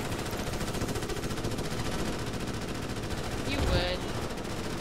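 A gunner firing in the video game Starship Troopers: Extermination, rapid continuous machine-gun bursts rattling under a busy battle din, with a brief louder swell near the end.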